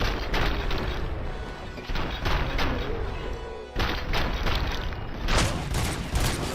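Video game gunfire in RoboCop: Rogue City, a dense, loud, continuous barrage of shots and booms during a hostage fight, with a brief lull in the middle.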